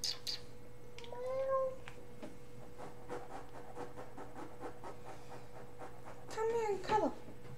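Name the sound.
cat meowing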